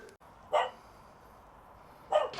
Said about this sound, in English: Now there's a dog that's about to be very excited to see me